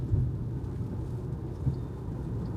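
Rain falls on a Tesla car in a steady, low, muffled wash with a dull rumble, heard from inside the car and without speech.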